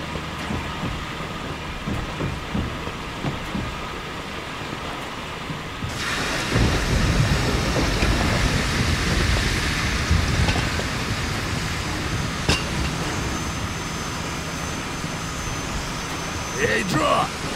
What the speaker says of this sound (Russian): Ладно, я запускаю паровоз.